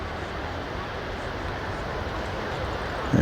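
A fixed-wing airliner at Birmingham Airport rolls for takeoff at full throttle, heard as a broad, steady roaring rumble from some distance, constant in level with a slight swell at the end.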